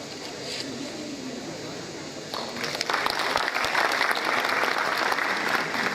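Audience clapping loudly to greet the guest of honour at a formal university ceremony, the applause building sharply after two seconds into a dense, sustained round of hand claps.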